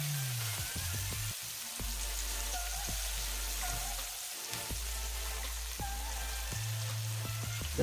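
Frozen mushrooms sizzle in a pan with a steady hiss of frying, while low background tones and occasional faint clicks sit beneath the continuous crackle.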